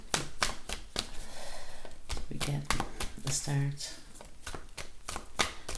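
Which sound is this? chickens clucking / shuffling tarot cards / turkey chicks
shuffling tarot cards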